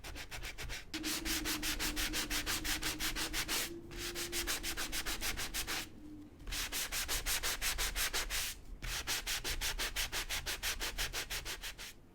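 An electric sander works over paper in repeated strokes, a rapid raspy rubbing buzz broken by short pauses, close and loud, with a faint steady tone underneath and no talking.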